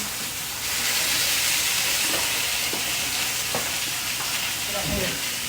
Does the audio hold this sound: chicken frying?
yes